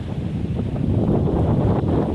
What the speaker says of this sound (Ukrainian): Піднявся дуже вітер перейшов на інше поле